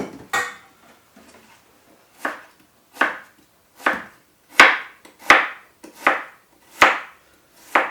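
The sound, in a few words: knife slicing food on a cutting board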